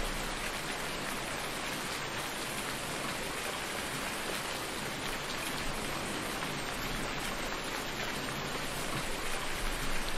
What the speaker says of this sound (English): wait for this rain to stop.